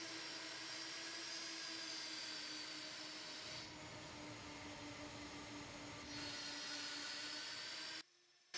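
A Boeing 767 jet engine in the Captain Sim flight simulator spools up in a loud, steady whine. Tonal harmonics hold over a broad roar, dip briefly midway, swell again, then cut off abruptly.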